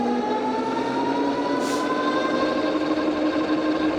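An electric whine with steady rising harmonic tones from a Tuttio ICT e-bike motor running under throttle, continuous and fairly loud across the whole stretch, with no talking.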